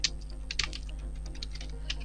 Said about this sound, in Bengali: এটা লিখে কিবোর্ড থেকে এন্টার প্রেস করলাম